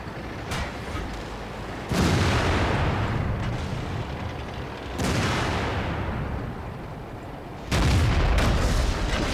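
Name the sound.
tank cannon firing in video game World of Tanks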